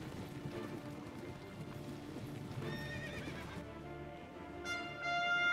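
Horses in a Civil War first-person shooter game neigh and whinny, with hoof clip-clop and busy game sounds underneath, a louder whinny near the end.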